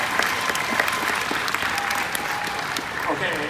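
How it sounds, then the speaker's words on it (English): Audience at a Disney D23 Park Stars panel breaking into steady applause with cheers and whoops, dense and fairly loud, crowd voices mixed throughout. "Kitchen Cabaret, if you think that rocks harder than Food Rock, round of applause."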